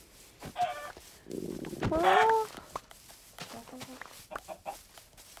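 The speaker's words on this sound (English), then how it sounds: "Chicken." A chicken in a video game clucks and squawks in short bursts, with a brief voice and soft clicks around it.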